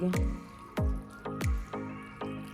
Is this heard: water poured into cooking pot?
yes